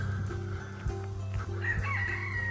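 A rooster crows and chickens cluck at a farm animal park in Bedfordshire, the calls fairly close and clear against a quiet outdoor background, with short repeated clucks around a rising crow.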